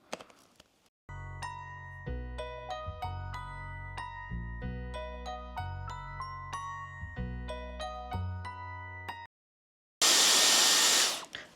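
After a stretch of music and a brief silence, a Dyson Airwrap hair styler with an attachment fitted switches on, giving a loud, steady airflow roar for about a second and a half at the end.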